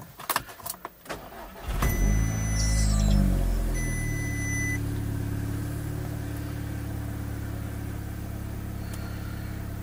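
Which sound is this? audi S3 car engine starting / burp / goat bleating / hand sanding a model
audi S3 car engine starting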